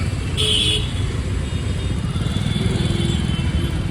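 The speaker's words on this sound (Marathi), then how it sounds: "पावसामुळे जाम ट्रॅफिक झाला" Dense road traffic stuck in a jam during heavy rain, with a steady broadband wash of engines and rain noise, low motor rumble throughout and a brief horn-like tone near the start.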